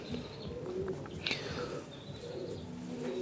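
A nesting pigeon coos softly, fairly close, in a few low rolling calls against a quiet background with faint chirps.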